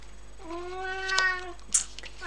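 A pet cat named Chloé lets out a drawn-out, moaning meow, close and fairly loud, followed by a brief higher squeak.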